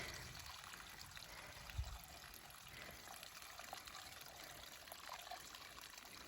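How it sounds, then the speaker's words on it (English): Creek water piped under a small service road along the Appalachian Trail in Georgia pours out of the pipe in a faint, steady trickle that runs the whole time, with no talking. "So it's coming out of a pipe. But it's coming from a creek."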